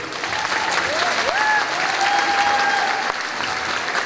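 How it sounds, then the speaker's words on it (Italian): An audience at an ice skating show claps in a steady burst of applause, fairly loud and sustained for several seconds, with a faint tone and a sharp click partway through. "Applauso fatto bene."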